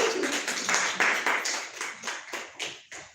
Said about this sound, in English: Please clap for Ratish